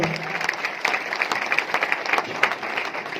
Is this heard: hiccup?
no